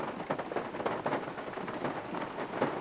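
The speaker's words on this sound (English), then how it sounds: "See that rain coming down?" Steady rain pours down during Tropical Storm Elsa in a small town, a dense continuous hiss with scattered heavier drop patters throughout, moderately loud and with no voices.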